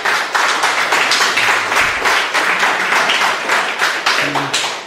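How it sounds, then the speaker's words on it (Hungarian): Audience claps after a lecture about discovering an impacting asteroid, loud and close, with a dense, even wash of hand claps continuing throughout. "Még egy tapsot."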